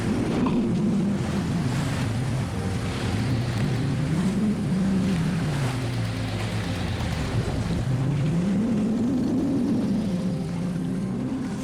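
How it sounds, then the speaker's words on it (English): A sailboat motors under engine power on open sea, a steady low engine drone rising and falling with the swell under continuous water wash and wind noise, with no talking. "I fail to sail and I have to turn the engine back on again"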